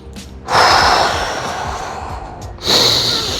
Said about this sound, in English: take 1 or 2 deep breaths